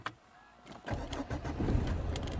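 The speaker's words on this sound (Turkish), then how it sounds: "Devraja basıp frene bastıktan sonra aracımızı çalıştırıyoruz." A manual-transmission car engine cranks and catches after the clutch and brake are pressed, then settles into a steady, close idle after a brief quiet moment.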